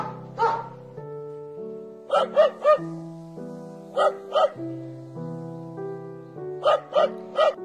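A dog barks in short clusters of two or three yaps over a soft, steady musical backdrop of sustained tones, as background to a story told in Tamil.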